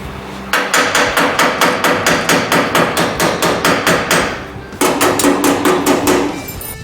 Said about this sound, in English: Hold the panel under tension and do the hammering.